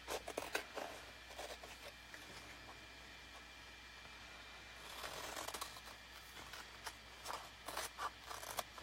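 Quiet scissors snipping out chalk transfer designs up close, soft irregular crisp cuts with rustling paper and a faint background hiss, livelier toward the end.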